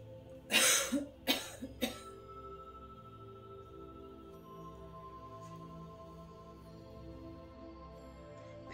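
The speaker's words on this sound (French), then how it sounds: "À présent, nous allons tousser 3 fois énergiquement afin d'évacuer et de" A person coughs energetically three times to clear the bronchi during a breathing exercise, giving three sharp, close bursts in quick succession at the start, followed by quiet room tone.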